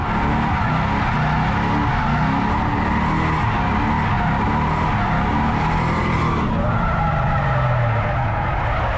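A drift car at a drifting competition runs close by with a loud, continuous engine roar and sustained tire squeal through the whole stretch.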